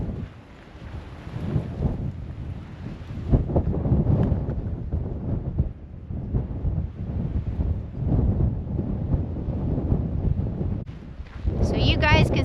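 Strong wind gusts roar and buffet the microphone high in desert mountains near Chloride, Arizona, a broad steady rush with swelling surges throughout, while a person talks over it.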